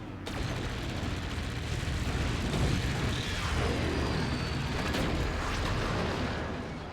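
Heavy cannon fire in a team-based video game match, a dense continuous roar of booming blasts and rumbling explosions filling the whole stretch at steady high loudness.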